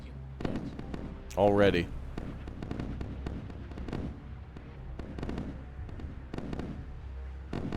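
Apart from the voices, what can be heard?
missiles launching in a real-time strategy video game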